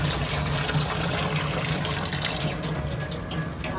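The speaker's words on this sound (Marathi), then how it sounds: "आता धुवून घेऊयात आपण आधी चांगली पाण्याने." Coriander leaves are washed under a running tap, with a steady, close, unbroken rush of water splashing into a sink for the whole stretch.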